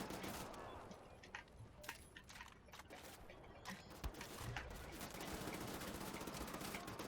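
Rapid automatic gunfire from dual-wielded submachine guns in the shooter Wolfenstein: The New Order, sustained bursts of dense crackling shots running throughout, with game ambience behind.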